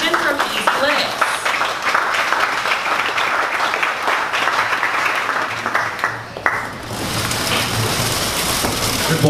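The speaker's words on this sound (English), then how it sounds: "Please everyone stand up, big round of applause for Sachin from EZlytix." Audience applause at a startup pitch event, a dense steady clatter of many hands clapping throughout, loud and close, briefly dipping near the end before continuing.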